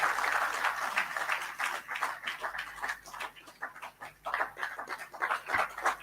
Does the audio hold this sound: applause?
yes